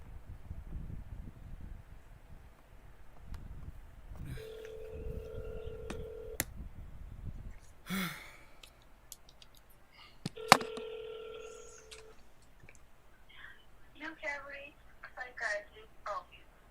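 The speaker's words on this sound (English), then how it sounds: "Is this one of the phone calls you were talking about, Blue?" Telephone dialing tones during a phone call: two sustained beeps and scattered short dial tones separated by clicks and rustle, with talk in parts of the clip.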